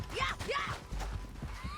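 Horses clip-clopping along in Red Dead Redemption 2, with hoofbeats and a brief whinny-like sound close by, mixed with other game noise and some low voices.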